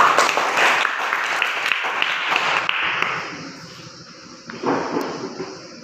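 A classroom group applauds together, loud brisk clapping for about three seconds that then fades out, followed by a brief thump and shuffling.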